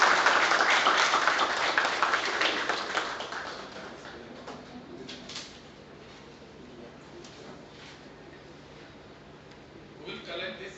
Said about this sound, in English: a big round of applause for the audience